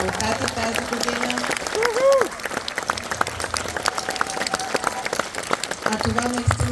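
Applause from an audience at a school graduation awards ceremony, a dense steady patter of many hands clapping continuously, with a voice briefly cutting through partway.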